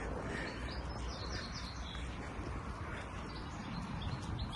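Scattered birdsong with short chirps and tweets rises over a steady background murmur, soft and a little distant.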